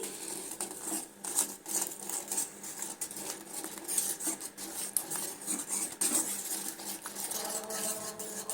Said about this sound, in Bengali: আবারও আমি একটা হুইসের সাহায্যে সুন্দরভাবে এইভাবে ফেটে নিচ্ছি